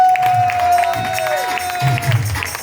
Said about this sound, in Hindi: एक बार सुलूनी यूनिवर्सिटी के लिए जोरदार तालियां बजाएं